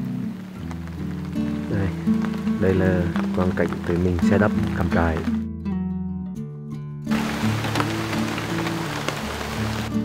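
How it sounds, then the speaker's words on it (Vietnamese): Rain falls steadily on a forest campsite in Australia in the morning, a constant hissing patter on tarps and tents, while a person talks over it for much of the time. "Mưa."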